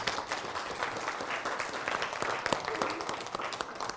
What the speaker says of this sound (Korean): 우리 박사님께 감사의 박수를 드리겠습니다.